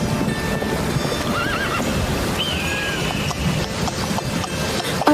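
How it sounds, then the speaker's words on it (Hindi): A horse whinnies with a rising, wavering neigh while hooves clip-clop steadily on the ground, set in a Himalayan mountain story scene with faint wind in the background. "और वहां अपने घोड़े वायु को छोड़कर पैदल ही आगे का रास्ता तय करता है"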